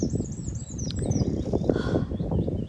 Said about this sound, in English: I love bird sounds.